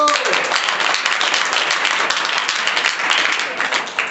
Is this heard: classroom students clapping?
yes